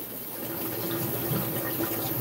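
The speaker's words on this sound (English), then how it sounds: "I can hear the water rushing through the room" Water rushing through a fish room floor drain system during an aquarium water change, a steady continuous gushing wash with no breaks, fairly soft and close.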